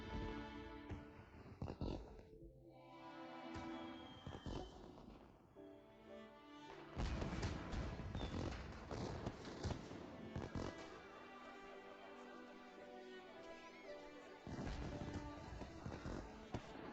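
Fireworks bursting at a palace celebration: repeated crackling pops and booms rise and fall over seventeen seconds, fairly faint, with a brief lull early before a denser, sustained run of crackle.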